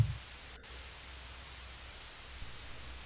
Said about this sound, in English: I'm one of those people who think white noise is extremely relaxing.